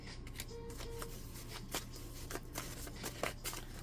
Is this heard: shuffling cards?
yes